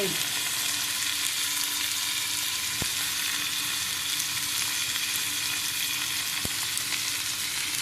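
Whole spices, ginger and cashews fry steadily in a hot pan for a mushroom gravy, giving a continuous close sizzle and crackle with two sharp clinks of a utensil and no talk.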